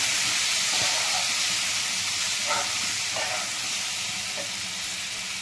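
Onion and aubergine pieces sauté in a pan with a loud, steady hiss of sizzling oil, punctuated by a few soft taps and scrapes of stirring.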